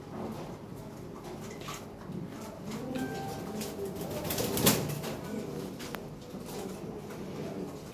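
Lahore Siraji pigeons coo softly amid faint rustling and a brief flutter, a quiet, close cluster of calls over low background noise.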